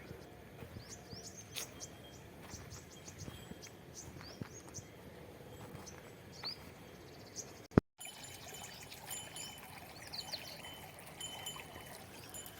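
Irrigation water trickles and pours steadily into vegetable beds at low volume, with scattered bird calls chirping in the background and one brief knock partway through.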